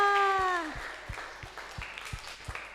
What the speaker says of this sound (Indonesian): tepuk tangan buat adik-adik semua.